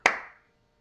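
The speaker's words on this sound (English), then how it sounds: "I'm going to count quarters but clap 8th notes" A single hand clap rings out, sharp and close, then decays quickly into silence, part of clapping eighth notes.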